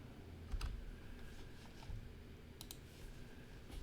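Keys clatter on a computer keyboard as a number is typed in, a short burst of soft, close clicks with small gaps between them.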